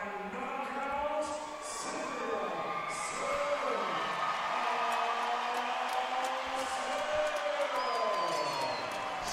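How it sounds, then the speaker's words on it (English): Spectators at a women's MMA event cheer and roar for a fighter. The dense crowd noise is steady and loud for the whole stretch, with voices and whoops mixed in. "they're just cheering them on like she's local here"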